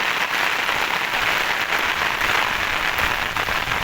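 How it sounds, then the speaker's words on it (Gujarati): Heavy downpour in Mangrol taluka, Junagadh district, Gujarat, during a severe storm with strong wind, a dense continuous hiss of rain pounding surfaces, steady and loud throughout with no voices. "જોરદાર વરસાદ પડી રહ્યો છે"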